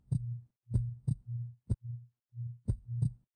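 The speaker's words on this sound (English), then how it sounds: "Oh, the heartbeat too" Heartbeat sound effect in the Sonic.EXE PC Legacy Edition video game, a steady series of low, muffled double thumps repeating at an even rhythm with short silent gaps between beats.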